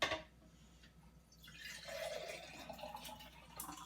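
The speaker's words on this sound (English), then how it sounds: "We have all of this excess brine, which I'm now going to pour into" Excess sauerkraut brine is poured into a jar, making a soft, close trickle of liquid that runs steadily for a few seconds.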